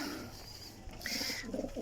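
Champion breeding pigeons coo softly in a breeder's loft with narrow nesting boxes in Jhelum, giving low, faint, throaty calls over a quiet room with light ambient noise.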